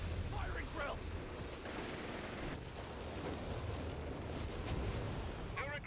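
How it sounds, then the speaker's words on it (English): Whiz-bang artillery rounds landing in the World War II strategy game Company of Heroes 3: dense, rumbling barrages of explosions and gunfire crash almost continuously, loud and close, while a commentator's voice comes through intermittently. "Oh, here comes the whiz bang rounds again, I think."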